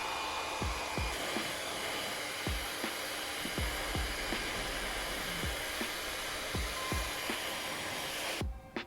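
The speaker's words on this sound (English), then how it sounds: "the next step is to borrow the wife's hairdryer" A hair dryer on a cold setting blows dust out of a disassembled PS3 with a continuous loud whooshing hiss, accompanied by repeated low thumps at irregular intervals, cutting off abruptly at the end.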